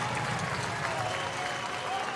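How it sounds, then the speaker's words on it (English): Spectators at an A-League football match between Newcastle Jets and Canberra United clap across the stadium, a steady broad wash of applause held throughout. "And Hoban and the crowd all applauding together."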